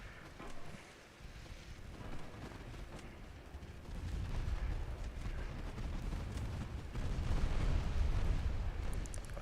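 Enemy ship gunfire in the naval video game Ultimate Admiral Dreadnoughts, heard as low rumbling booms and rolling blasts that swell in loudness toward the end over a continuous wind-like roar.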